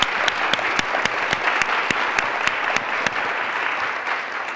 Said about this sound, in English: so let's just applaud.